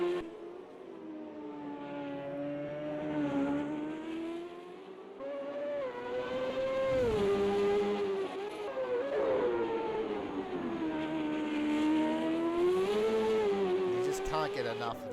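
1995 CART IndyCar engines at the Long Beach street circuit whine and drone continuously for the whole stretch, pitch rising and falling as the cars pass and shift, loud and sustained.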